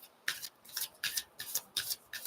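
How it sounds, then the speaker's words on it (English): Moonology oracle cards are shuffled by hand in a quiet room: seven or so crisp, riffling bursts at a steady, roughly one-per-third-second rhythm, close and fairly soft, with no talking. "I was shuffling the Moonology cards"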